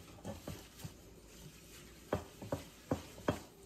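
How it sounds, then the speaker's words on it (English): A spoon stirs sugar into cupcake batter for strawberry shortcake cupcakes, making a run of short, gritty scraping strokes against the bowl, quiet and close, about eight in a loose rhythm with no talking. "I am going to add 1 cup of sugar and give that a mix"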